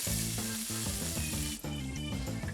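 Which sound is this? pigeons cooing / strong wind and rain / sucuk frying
sucuk frying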